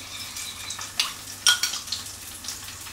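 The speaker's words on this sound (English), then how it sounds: "Let's give that a wee stir again." Dressing for sea bass fillets with coriander and lime is stirred in a pan: light scrapes and a few sharp metallic clinks over a faint sizzle, close and brief.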